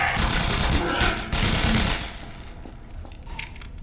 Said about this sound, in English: She shoots those bullets freaking fast.